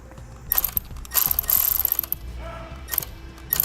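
T15 Torx bit backing fender liner screws out of a Chevy/GMC truck, a string of short, quiet mechanical ratcheting bursts with small clicks and rattles between them.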